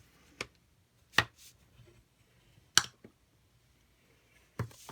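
Stamped cardstock for a Merry Moose holiday card being folded: four sharp, crisp creasing snaps spaced apart, close and fairly loud against a quiet room.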